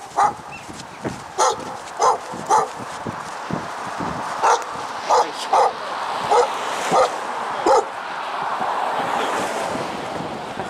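A guard dog barks repeatedly in a steady series of sharp woofs, about a dozen in all, at moderate distance, while strong wind buffets the microphone and a surf-like roar fills the background.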